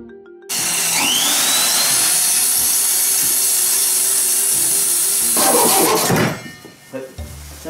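A circular saw slicing through thick square timber during a DIY kitchen underfloor-storage job, a loud sustained high whine starting abruptly, running several seconds, then dropping as the blade exits and spins down.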